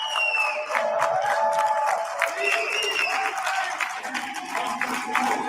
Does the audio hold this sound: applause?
yes